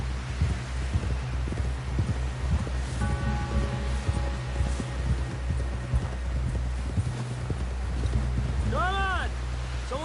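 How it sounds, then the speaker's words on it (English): A horse gallops in Red Dead Redemption 2, hoofbeats clip-clopping steadily throughout under constant background noise, while a voice speaks briefly. "Someone help John down off this horse."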